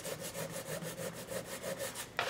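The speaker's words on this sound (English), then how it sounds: "I think we need some more sanding through." Rhythmic back-and-forth sanding through paint on a wooden noodle board stove-top cover, steady close strokes repeating about every quarter second, ending with a brief louder scrape.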